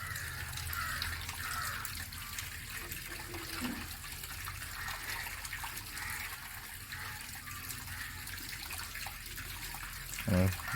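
Water runs steadily out of the bottom of a water filter, a constant close rushing flow lasting throughout, with faint voices in the background and a brief knock near the end.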